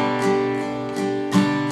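An acoustic guitar strummed in a straight up-down pattern, a few sustained chord strokes ringing close and clear with no voice over them.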